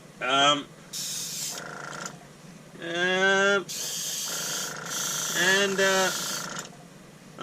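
Spray paint base coat applied to a Tamiya 1/16 RC M551 Sheridan tank model, several broad hissing bursts of varying length, close by, alternating with someone talking between and over them.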